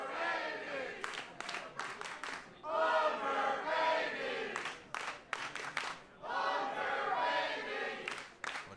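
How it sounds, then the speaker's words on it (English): Wrestling crowd at a gauntlet match chants rhythmically at wrestler Brian Morris, loud repeated phrases with short gaps between them, mixed with shouts and some clapping. "the crowd chanting Wonder Baby towards Brian Morris"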